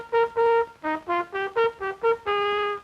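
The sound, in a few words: music rhythm of fast and slow notes, different accent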